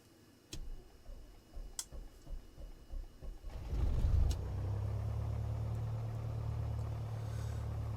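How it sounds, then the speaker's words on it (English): In a Piper Warrior II light aircraft flight simulator, a few switch clicks lead to an engine startup that settles into a loud, steady idle drone. "Definitely a loud aircraft."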